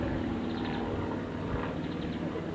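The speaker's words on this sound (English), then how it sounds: "There's an aeroplane in the sky. You can probably hear it." An aeroplane passes high overhead in the English countryside, a steady broad engine rumble and drone that holds at an even level throughout.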